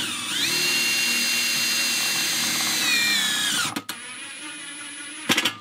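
A power drill whines steadily at close range for several seconds while driving self-tapping screws into a deck railing, then cuts off, followed by a couple of short clicks and a brief final burst.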